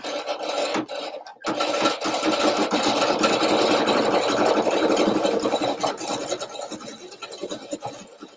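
An embroidery machine stitching a circle: a steady, fast mechanical whirring and rasping drone, close and continuous after a brief pause near the start.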